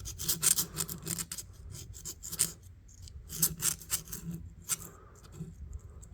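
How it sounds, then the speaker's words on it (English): A metal tool scrapes rust and debris from the crevices of an Imperial Peanut pocketknife, giving close, irregular rasping strokes with sharp gritty scratches, each short and uneven. "So let's just scrape on it here. See what kind of stuff we get out of there."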